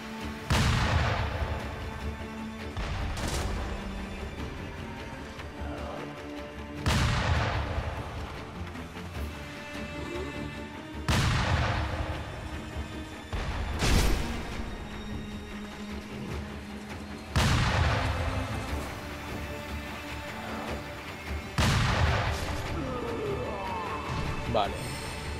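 Gunfire in the video game Sekiro: Shadows Die Twice: six loud, booming blasts spaced several seconds apart, each trailing off into a rumbling decay, with a player's voice talking in between.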